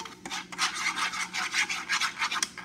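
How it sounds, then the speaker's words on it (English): Whipped cherries with cinnamon are stirred in a bowl, making close, rhythmic scraping and swishing strokes in a steady back-and-forth pattern without talk. "I'm stirring mine and it has cinnamon in it."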